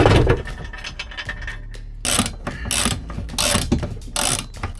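A ratchet works loose a stubborn screw inside a VW T4 campervan, making loud, close clicking bursts that come in repeated strokes, with no speech.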